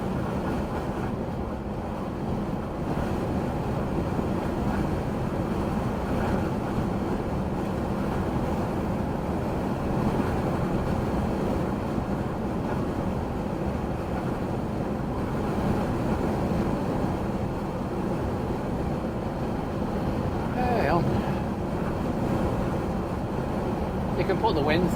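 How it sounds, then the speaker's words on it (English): Wind rushes past a vehicle driving at 56 miles an hour, making a constant loud, broadband roar that lasts throughout. Someone talks over it. "But you can't stop wind noise. When you're doing 56 miles an hour through the atmosphere, you're going to get a bit of a draft."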